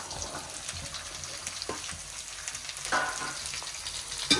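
Green beans and carrots frying in a pan for chicken rice, giving a soft, steady sizzle close by with occasional stirring scrapes, quiet and without speech.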